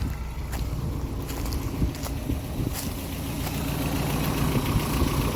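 A Toyota pickup's 22R engine idling, a steady mid-pitched rumble heard up close with light wind noise and no talking.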